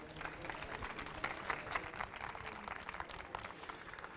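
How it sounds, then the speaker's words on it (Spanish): Audience applause at a digital opportunity conference session on video games in Latin America, welcoming the next presenter: dense, steady clapping from a seated crowd that holds at an even level for the whole stretch. "Les pido un aplauso, por favor."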